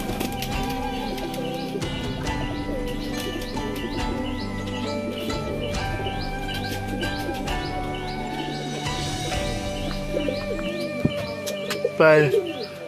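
Pigeons kept at a home loft, with soft repeated cooing and chirps and a brief flutter of wings near the end, mixed with a steady background tone and some voices.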